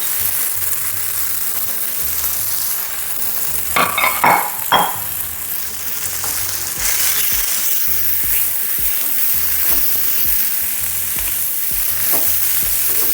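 Cabbage stir-fried in spice paste for vegetable nasi goreng, a steady close sizzle with a spatula scraping and clinking against the pan in short strokes.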